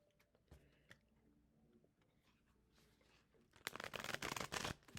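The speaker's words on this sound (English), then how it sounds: "easy for me to shuffle" Brisk, crackling riffle of a new Rider-Waite-style tarot deck being shuffled all at once, a loud, dense burst lasting about a second after quieter handling noises.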